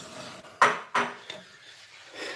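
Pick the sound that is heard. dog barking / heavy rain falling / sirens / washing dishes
washing dishes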